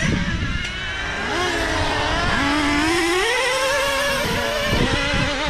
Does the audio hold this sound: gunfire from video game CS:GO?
no